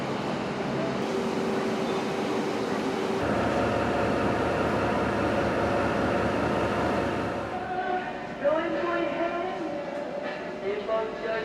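A steady low rumble of the overnight Reunification Express train rolling from Hanoi to Saigon, continuous and fairly loud, with faint voices murmuring in the carriage.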